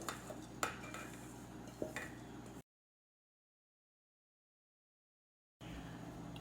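Nuts cook in milk in a pan and are stirred with a utensil, giving soft scraping with a few sharp clinks against the pan, then a gap of silence before a low background hum returns.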